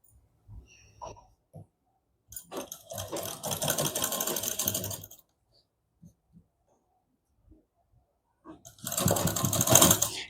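Sewing machine stitching blouse fabric for a double katori blouse, two loud sustained runs of whirring separated by quiet stretches with scattered soft clicks and handling sounds.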